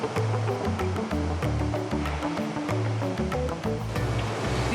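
Ocean surf rolls and breaks along the Landes coast of southwest France, a broad steady wash of water heard beneath prominent rhythmic music.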